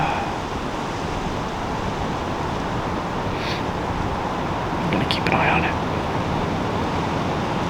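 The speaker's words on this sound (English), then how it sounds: "This tree's just starting to sway in the wind with me in it." Steady wind rushes through the whole clip, a broad constant roar with slight gusts, while a person in a swaying tree stand whispers quietly over it.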